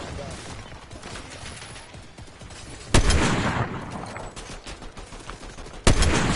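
An enemy turret firing in a video game: rapid, steady gunfire throughout, with two loud sharp blasts standing out, and game sounds layered over it.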